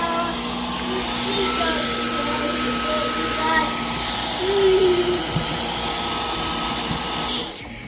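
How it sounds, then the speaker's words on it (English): A Dyson Outsize cordless vacuum cleaner runs with a steady, close, high whine while it sucks up debris. A brief rattle comes midway, and the motor winds down and cuts off at the end. "Let's try to suck that up again."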